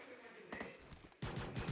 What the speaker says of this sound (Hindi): भाई साइड से बहुत तगड़ी फायरिंग चल रही थी